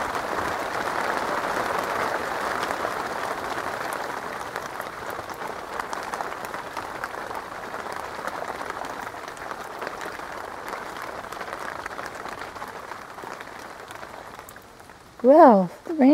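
Rain falls steadily on a pond, a soft, even patter with scattered drops, fading slightly before voices cut in at the very end.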